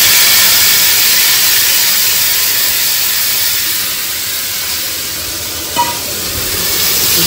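Raw tomato added to hot oil in a pan and stirred, a loud, continuous sizzling hiss with a brief clatter of the stirring utensil near the end.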